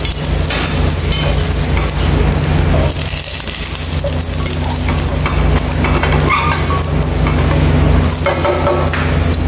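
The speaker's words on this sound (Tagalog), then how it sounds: "Ilagay natin ang butter." Butter sizzles loudly and steadily in a hot pan while shrimp are cooked over a low flame, with stirring noises on top and no talk.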